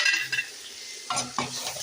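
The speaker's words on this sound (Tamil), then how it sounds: "இப்போ ஈரல் நல்லா இதிலே வதங்கட்டும்." Brief scraping stirs of a utensil in a pan of sautéing liver for mutton kulambu, two or three quick strokes over a soft frying sizzle, close and fairly quiet.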